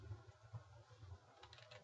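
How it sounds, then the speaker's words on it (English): Faint, close tapping of keys on a computer keyboard comes in an uneven rhythm of light clicks, quiet and alone without speech. "I'm typing terribly."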